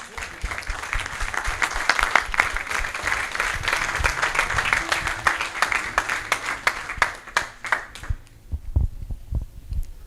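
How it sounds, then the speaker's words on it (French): A church congregation applauds steadily through a worship service, dense clapping under a low hum that thins out and stops toward the end. "Acclamons pour Jésus-Christ."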